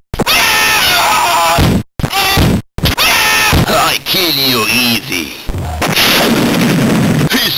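Explosions, gunfire and cries from the Game Boy Color game Cannon Fodder, harsh bursts of crunchy noise broken by short silences, with warbling tones and groan-like voice sounds rising and falling, loud and chaotic.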